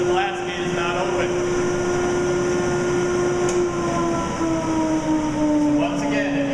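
A shop dust collector runs steadily with its blast gate open, a continuous loud whine and rushing airflow holding one sustained tone throughout, with no speech over it.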